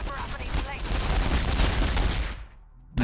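Sustained gunfire from an Ork war boss and Astra Militarum troops in the Warhammer 40000 Battlesector video game, a dense rattling barrage lasting over two seconds before cutting off, then a brief new sound.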